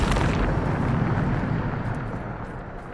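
A Bombarda spell explosion in the video game Hogwarts Legacy: a loud, broad blast bursts at once and then rumbles and slowly fades over a few seconds, with no voices.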